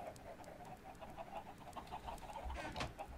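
Chickens clucking in a Minecraft FTB game world, a steady run of short repeated clucks with a brief louder squawk near the end, no talking.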